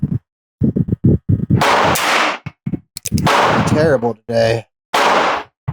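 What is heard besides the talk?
Heritage Rancher carbine shots at steel plate rack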